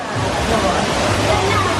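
A waterfall at a theme park Halloween party roars as a steady, dense wash of rushing water, close and constant throughout with no pauses.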